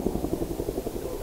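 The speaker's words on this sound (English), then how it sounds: "Huey and Cobra helicopters initiate the attack." Huey and Cobra attack helicopters with rotors thudding in a rapid, steady pulse, heard briefly and fairly close.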